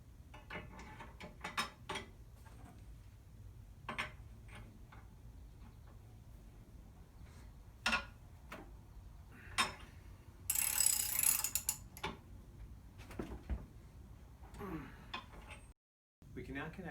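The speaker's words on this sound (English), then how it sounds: "we'll tighten the two jam nuts to each other." Two jam nuts being tightened against each other on a plow conversion system for a John Deere 54, heard as quiet ratcheting clicks and metallic taps scattered through the clip, with a brief louder scraping burst midway.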